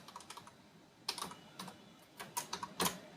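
Bursts of keystrokes on a computer keyboard, typing a short phrase in quick clusters with brief pauses between, close and fairly quiet with no voices.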